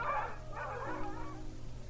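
Dogs bark outdoors in two or three quick, moderately faint yelps and woofs, heard alone against a steady background hum.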